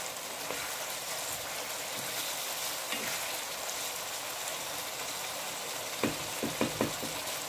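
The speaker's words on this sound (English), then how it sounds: "and I'm frying it." Lamb kidney fries in a pan with lemon juice, giving a constant close sizzle and crackle with a few soft clinks toward the end.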